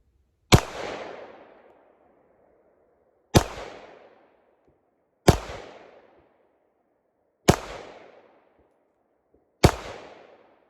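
A Nambu Type 14 pistol fires five single shots at an outdoor range, each a loud sharp crack with a short fading tail, spaced about two seconds apart, no talking.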